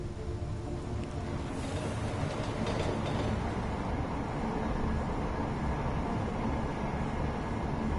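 A train car rolling along in the video game Deus Ex, heard as a steady low rumbling rattle of wheels and carriage, constant and fairly quiet with no voices.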